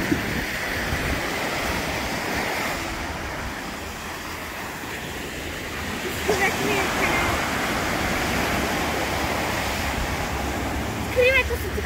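Sea waves wash steadily onto a sandy beach at Porto Cesareo, a continuous loud surf roar mixed with wind buffeting the microphone, with a brief voice near the end.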